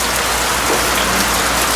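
Steady heavy rain pours onto surfaces in Trenchtown, Kingston, a dense continuous hiss with no pauses and no voices.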